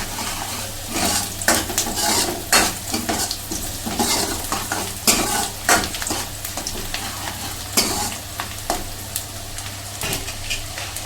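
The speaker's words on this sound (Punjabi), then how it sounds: "ਹੀਂਗ ਪਾ ਕੇ ਅਸੀਂ ਮਿਕਸ ਕਰ ਲਾਂਗੇ" A spoon stirs asafoetida into onions frying in a pan, giving sharp, repeated scraping strokes over a steady sizzle, close and clear, with no talking.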